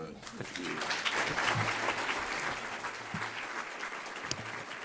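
An audience applauding a panel at a political satire forum, sustained clapping across the whole stretch, steady and moderately loud, with a low hum of voices and a few brief murmurs mixed in.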